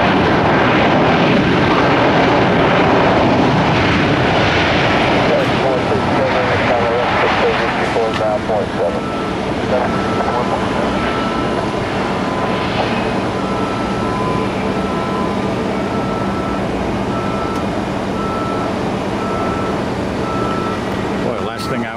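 Fixed-wing airliner taking off from runway 19R at Tampa airport, a loud steady engine roar filling the scene, with construction-site machinery and beeps mixed in nearby.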